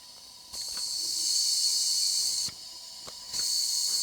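Compressed air hissing out of the dipstick tube on a Triumph TR4 engine during a leak-down test as it leaks past the piston rings. The hiss is steady and close, with faint clicks and a brief drop midway.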